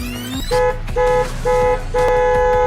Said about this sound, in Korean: 경적을 울려보지만 나오는 건 한숨뿐